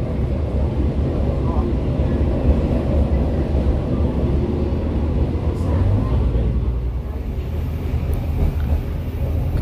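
A train runs on rails through the Gresik industrial area, producing a steady low rumble and rolling roar that stays loud and continuous throughout.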